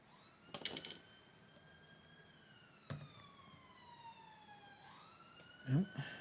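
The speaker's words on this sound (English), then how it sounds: "that's another police car" A police car siren wails faintly in the distance as it passes, its tone gliding slowly downward and then rising again, with a few soft knocks and clicks nearby.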